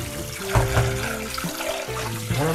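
Hot water pours over freshly cooked noodles being rinsed, a continuous splashing run of water like a tap into a sink, fairly close.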